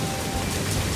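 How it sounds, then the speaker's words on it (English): Torrential rain pours without a break from a hurricane's tail on a remote island at night, a dense, loud, steady roar of downpour with no voices. "Unbelievable torrential rain, biblical on Noah's level."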